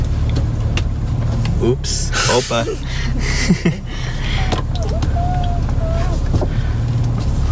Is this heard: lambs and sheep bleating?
no